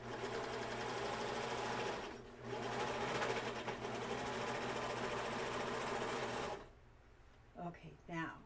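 A sewing machine stitches a wrist towel in a steady, close, rapid mechanical whir with a short pause partway through, then stops and a voice speaks over quiet.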